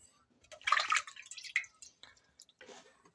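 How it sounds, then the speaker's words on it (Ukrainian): Water poured over fresh cherries and mint in a pot for compote: a few short splashing, trickling bursts with a brief pause between, close and fairly quiet, no talking. "Заливаю водичкою"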